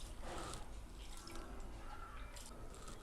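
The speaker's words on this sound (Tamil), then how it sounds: "துவரம் பருப்பு அது வந்துட்டு தண்ணி ஊற்றி நம்ம ஒரு வாட்டி வாஷ் பண்ணி எடுத்துக்கலாம்." Toor dal lentils being rinsed with water in a kitchen: soft, continuous splashing and trickling with small drips, quiet and close, with no voices.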